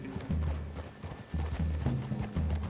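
Horses in the video game Red Dead Redemption 2 move close by with steady clip-clopping hooves and the rustle of tack, and a snort or low whinny comes through now and then.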